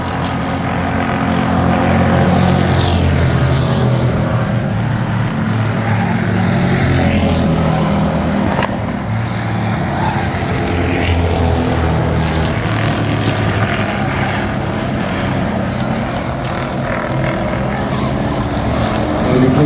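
Pure stock cars race around a track in a feature event, their engines forming a loud, continuous roar that swells and fades slightly as the pack circulates, with no clear voices.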